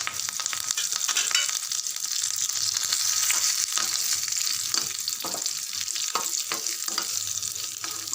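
Sun-dried vadagam and curry leaves tempering in hot oil for a fish curry, giving a close, steady, dense sizzle with crackling spits and stirring scrapes throughout, and no voices.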